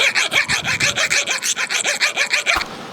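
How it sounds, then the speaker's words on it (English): A metal file is drawn across the end of a piston ring for a Holden ute engine build, making about fifteen quick, evenly spaced rasping strokes in a close steady rhythm, ending in a small knock, with no talking. "So basically you want to only file one side of the ring and keep it as square as you can."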